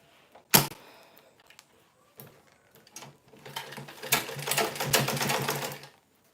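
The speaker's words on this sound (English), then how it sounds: "And I will sew it down." Sewing machine stitching down folded fabric edges, a steady mechanical whirr building after a few scattered clicks and handling noises, running loud and close for about two seconds before stopping, with no talk.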